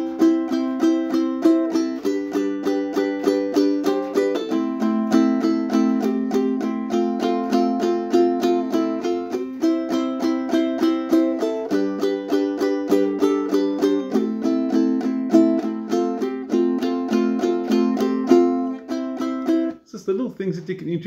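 Guitar strums a busier, steady rhythm over the chord progression, bright and close, alone without talk, the pattern repeating throughout with a slight rattle near the end.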